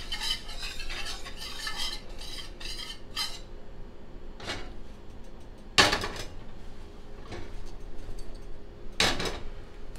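Flour warming in a pan is flipped and stirred, with scraping and clinking utensil strokes against the pan, a few sharp louder knocks standing out over a soft continuous background.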